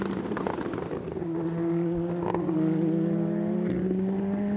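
Indy NXT race cars on the Indianapolis Motor Speedway road course, a sustained engine drone with a steady rising pitch as cars pass, loud and continuous with no talk.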